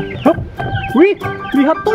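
Colourful chickens cluck in repeated short, rising calls at close range, mixed with a man's brief speech.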